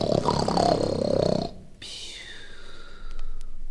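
A voice imitates a wolf snoring loudly in a Czech telling of Little Red Riding Hood from a 1966 vinyl record, giving a long rasping, roaring snore that breaks off into a short quiet gap before a thinner wheezing breath.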